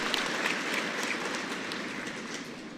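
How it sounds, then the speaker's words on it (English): Sustained audience applause at an award ceremony, a dense steady wash of many hands clapping that fills the space throughout and tapers slightly toward the end. "Please hold your applause."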